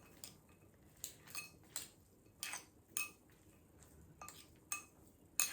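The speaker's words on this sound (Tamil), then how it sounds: "இப்போ தான் மிக்ஸ் பண்ண போகிறேன்." Pasta being stirred into tomato sauce in a pan for a viral pink pasta recipe, with a series of sharp utensil clinks and scrapes against the cookware, close and fairly quiet, coming in irregular bursts with no talking.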